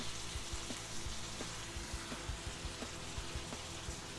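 Chillies frying in a hot pan for a Thai chicken chili and basil dish, a loud, steady close-up sizzle with faint rhythmic scraping or stirring beneath it.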